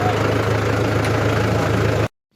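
A tractor stuck in a field idles with a steady low throbbing rumble, loud and close, then cuts off abruptly into near silence.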